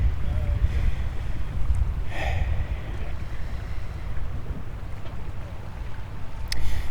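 Wind blows steadily outdoors with constant low rumbling buffeting against the microphone, a continuous broad roar that swells slightly near the end.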